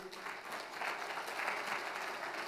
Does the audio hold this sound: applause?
yes